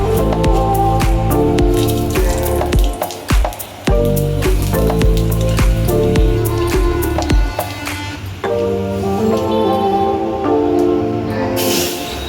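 Tempering spices hit hot oil and are stirred into cooking dal (lentils), giving a loud, sustained sizzle full of crackling pops and bubbling, close up with no talking.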